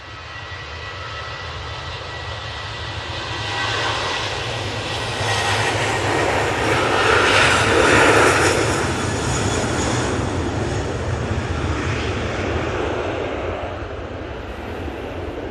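An airliner departs for Palma de Mallorca from Manchester Airport, a broad jet roar that swells to a peak midway and then holds as a steady rumble, heard from a distance with no voices.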